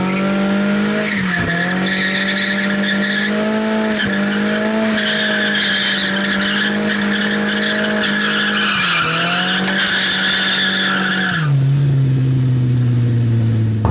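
A Nissan 240SX on a racetrack, with loud sustained tire squeal and skidding over a steady engine drone, pitch shifting as it slides, then a sudden change to a lower, rougher tone.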